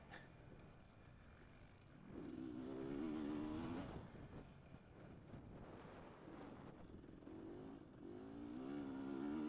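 A dirt bike in an Open D hare scramble race at Let's Ride Ranch revs and accelerates hard, its engine note rising in repeated surges over wind noise and rough-ground rattle, recorded from the rider's own machine.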